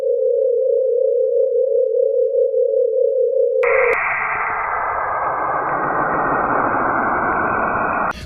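Strange space sounds recorded by the Voyager 1 probe in interstellar space: a steady pure humming tone that gives way to a rough, rushing broadband drone, loud and unbroken.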